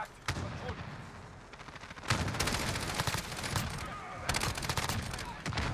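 RAM-7 assault rifle fired in Modern Warfare, dense rapid automatic bursts with loud sustained gunfire, brief pauses between volleys, and a voice talking faintly underneath.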